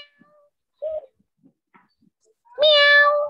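A person imitates a cat's meow with a short voiced call followed by a longer, louder, drawn-out meow, alone against near silence.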